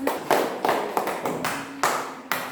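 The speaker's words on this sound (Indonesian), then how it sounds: "Kita beri tepuk tangan." Classroom applause for a group presentation, heard as a series of separate loud claps and taps at irregular intervals rather than a dense ovation, with room reverberation between them.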